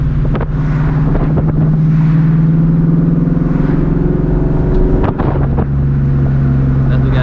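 A 1999–2004 New Edge Mustang GT drives with the windows down, and steady wind buffeting and road roar continue under a low engine drone. A brief dip and thump comes near the end, and voices are faintly present.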